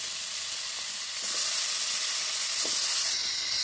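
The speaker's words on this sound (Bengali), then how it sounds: "আর আমি একটু এগুলো ভেজে নেব।" Pieces of bottle gourd fry in a pan with mustard paste, sugar and ginger, giving off a steady, close sizzle that swells a little louder partway through, with faint stirring scrapes and no talking.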